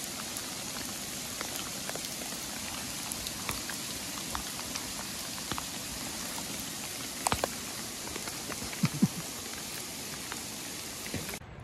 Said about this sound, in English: And now we have hail.